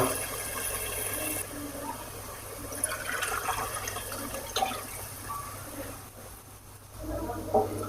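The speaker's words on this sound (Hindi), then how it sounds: "हम इसके अंदर पानी ऐड करेंगे" Water pours and splashes from a bowl into a cooking pot of beef nihari in a steady, continuing stream, with faint clinks and a brief louder splash near the end.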